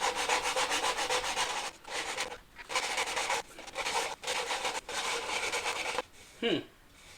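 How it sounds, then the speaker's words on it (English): Sandpaper of 150 grit on a semicircular wooden block rubs against a turned wooden pot in repeated strokes, a steady close scratchy hiss broken by short pauses, followed by a brief softer sound at the end. "using this semicircular piece of wood with some 150 grain sandpaper actually helps remove the small ridges"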